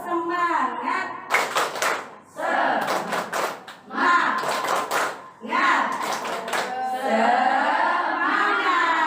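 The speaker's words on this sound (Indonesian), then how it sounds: "Saya pengen tahu kalau tepuk semangat itu bagaimana? Tepuk semangat." A group of children and adults performs a tepuk semangat chant in a classroom, bursts of rhythmic patterned clapping alternating with chanted voices, close and lively.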